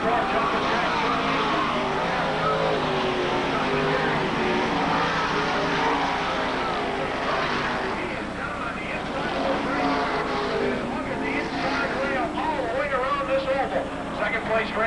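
Race cars lap the Fonda speedway track in 1991 with a dense, continuous engine roar that swells and recedes as the pack passes, while an announcer talks over it the whole time.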